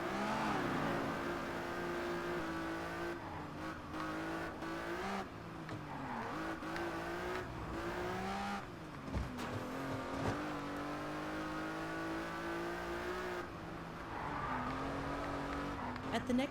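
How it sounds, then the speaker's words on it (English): A bright yellow Ferrari in a racing video game roars along at high speed, engine revving and tires squealing as it slides around corners, with a steady drone broken by shifts and skids. "I'm driving a bright yellow Ferrari at 120 miles an hour and sliding around corners"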